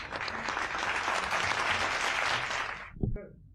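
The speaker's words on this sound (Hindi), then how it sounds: "एक बार जोरदार तालियों के साथ में आनंद जी।" Loud audience applause at a Hindi poetry gathering fills the space for about three seconds, a dense wash of clapping that cuts off abruptly and leaves a brief thump and a few trailing claps.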